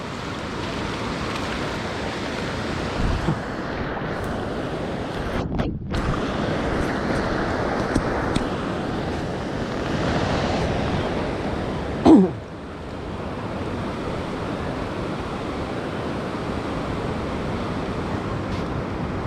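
Steady roar of strong surf and wind at Pererenan beach in Bali, continuous and loud throughout, with a brief bump of noise near the middle.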